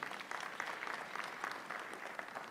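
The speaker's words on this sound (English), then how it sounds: "I think Dr. Nahashon deserves even a better round of applause." Steady, fairly faint applause from an audience for a speaker at a national wage bill conference, continuous clapping with no voices over it.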